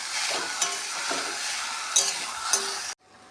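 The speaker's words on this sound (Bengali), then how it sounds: "শাকটা ভাজা ভাজা হয়ে গেছে" Jute leaves (pat shak) frying in a pan with green chili paste, giving a steady close sizzle with a few sharp stirring scrapes and clinks before it cuts off abruptly.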